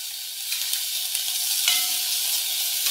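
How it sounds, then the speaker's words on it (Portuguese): Onion and an egg fry together in a pan for a homemade burger, giving a steady bright sizzle with a few soft stirring clicks, close and without voices. "Eu já tô fritando também o ovo pra gente colocar no nosso hambúrguer."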